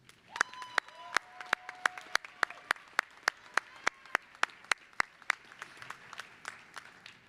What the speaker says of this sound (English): would you please give the parents, families, and friends gathered here today a round of applause